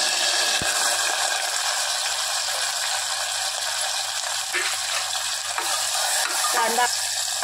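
Onion fries in a pan, a steady bright sizzle close by with a faint low hum beneath and a few soft stirring knocks toward the end, no voices.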